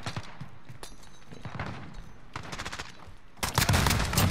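Repeated gunfire in a video game, mostly quick bursts and single shots at mid distance, building to a loud, dense volley near the end with no talk over it.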